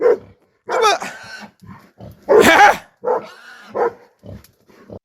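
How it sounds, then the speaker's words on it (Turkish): Shepherd's dogs bark repeatedly in loud, close bursts while driving off a wild boar attacking a flock of goats in Kahramanmaraş, with short gaps between the barks. "Domuz, keçilere saldırmaya çalışırken çobanın köpekleri tarafından püskürtüldü."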